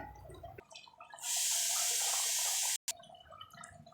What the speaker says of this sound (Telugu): ఆ వాటర్తో పాటు ఇంకొంచెం వాటర్ యాడ్ చేసుకుని